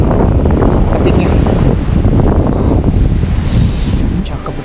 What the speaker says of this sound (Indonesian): Ombak kecil berlari pelan, menyentuh bibir pantai seperti ingin menyapa.